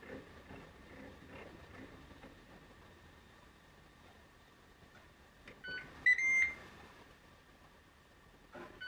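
A Ninja Woodfire oven's control panel gives a short cluster of electronic beeps as its timer is set to 30 minutes, clear and close over a faint steady background hum.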